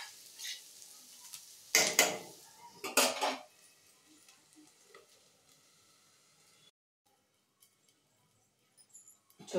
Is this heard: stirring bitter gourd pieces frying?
yes